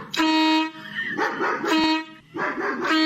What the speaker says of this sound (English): That when the dog barks, the horn happens.